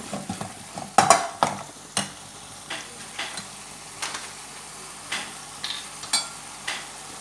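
A spoon scrapes and taps repeatedly against a pan while mushroom chili with green chilli sauce is stirred, the clinks spaced irregularly over a low sizzle.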